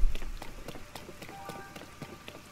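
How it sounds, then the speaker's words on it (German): Rain falling in the video game Zelda Tears of the Kingdom, a steady soft patter with faint footstep-like taps and a low hum beneath, fairly quiet and without talk. "Mit dem Regen brauche ich da gar nichts versuchen."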